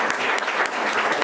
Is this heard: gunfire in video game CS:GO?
no